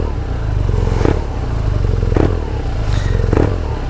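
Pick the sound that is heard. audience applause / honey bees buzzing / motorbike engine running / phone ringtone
motorbike engine running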